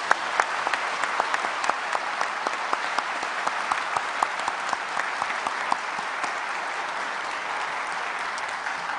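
A church congregation applauds steadily at an evening service, a dense wash of many hands clapping for about nine seconds, with faint voices underneath.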